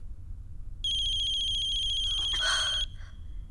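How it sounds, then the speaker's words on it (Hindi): A bright electronic phone ringtone starts abruptly and plays a sustained, pulsing tone for about two seconds before cutting off, clear and close over a quiet room background. "भूपेश जी का फोन आ रहा है।"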